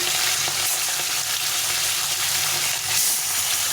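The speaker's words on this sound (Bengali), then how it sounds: "প্রথমে আমি মাছগুলোকে সবগুলো মাছকে ভেজে নেব তেলটাকে গরম করে নিয়েছি" Small young rohu-type fish fry in hot oil with a dense, continuous crackling sizzle, close and loud, with faint stirring clicks and no voices.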